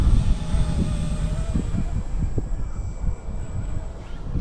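A Blade 150S RC helicopter flies flybys and figure eights in strong wind outdoors, its steady high-pitched rotor and motor whine droning continuously under gusty wind noise.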